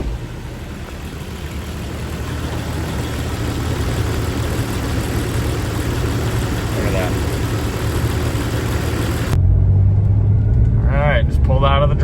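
Car engine idling steadily for a long stretch, apparently needing a thermostat, a close continuous low rumble and hum; a person speaks briefly near the end.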